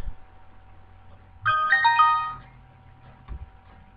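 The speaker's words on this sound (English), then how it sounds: "Oops, sorry, that was my phone." A mobile phone ringtone chiming briefly during a game of Oregon Trail, a short bright melodic jingle of a few notes, fairly clear against quiet background.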